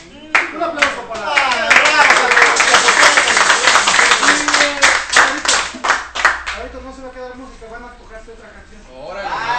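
Crowd applause and clapping at a Zapotec community gathering, a dense burst of many hands that fades after several seconds, with voices talking and calling out over it.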